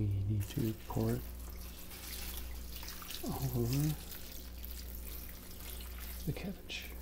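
Very salty water poured from a large bowl over cabbage for Korean kimchi, a soft steady liquid splashing and trickling running beneath quiet close-up speech throughout.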